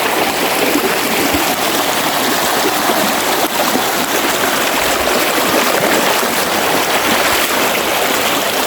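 Loud, steady rush of a flowing stream running swollen and murky after rain, continuous close-up water noise with no pauses.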